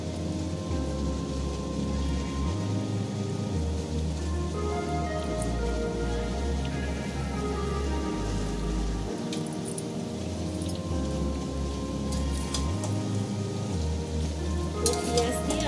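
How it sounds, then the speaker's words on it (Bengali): Onions fry in a pan for spicy chicken kosha, giving off a constant rain-like crackle and sizzle over a low hum. The sound is fairly loud and close and carries on without a break. "পেঁয়াজ দিয়ে আমি ভালো করে ভেজে নেব।"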